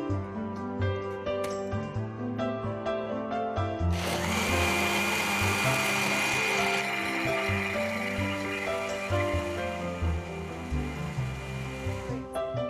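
An electric blender whirs through a fruit drink with two kinds of nuts, a loud grinding roar that kicks in partway through and runs over steady background music.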